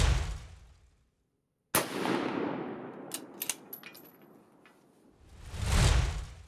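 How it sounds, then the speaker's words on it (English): A single loud rifle shot with a 2-pound buttstock weight added cracks out sharply after a moment of silence and trails off in a long echoing decay. A few fainter clicks and handling sounds follow, then a rustling swell near the end. "I added the 2 pound buttstock weight and took the second shot."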